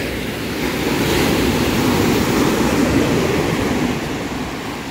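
Ocean surf rolls in as a steady, broad roar of breaking waves, swelling slightly and then easing, with some wind noise mixed in and no voices.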